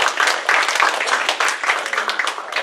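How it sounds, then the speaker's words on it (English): An audience applauds a lecturer at the close of a lecture-series talk, a dense, steady burst of many hands clapping close and loud for the whole stretch, with no voices over it. "Just another round of applause for you."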